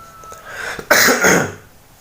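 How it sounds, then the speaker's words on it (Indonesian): A single loud, close cough bursts out, followed by a brief rough exhale, with no talking. "Sorry, batuk ya."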